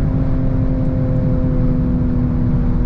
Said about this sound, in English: It still pops and bangs at like 200.